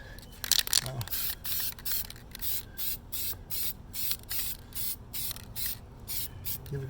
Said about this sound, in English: So I'm going to spray this one on both sides